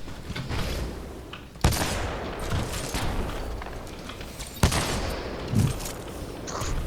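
Video game gunfire in a coliseum match: bursts of rapid shots with two sharp, loud cracks standing out, over continuous game noise, with no talking.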